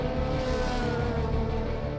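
A DTM touring race car's engine roars loud and steady at high revs, a continuous dense mechanical drone with no voices.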